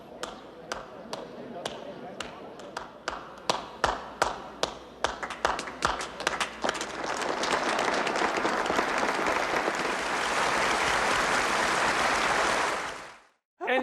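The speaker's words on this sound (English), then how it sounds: "Is this the first slow clap in film history?" A slow clap in a 1978 film: single claps start spaced out, then quicken and swell into full crowd applause that holds steady before cutting off abruptly.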